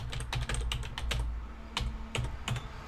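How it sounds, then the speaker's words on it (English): Keys clatter on a computer keyboard as a username is typed, a run of close, crisp clicks in uneven bursts with short pauses between them. "I'm going to type in my username."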